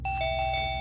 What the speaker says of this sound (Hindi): घंटी जलाएगा क्या?